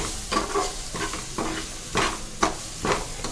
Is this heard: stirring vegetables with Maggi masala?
yes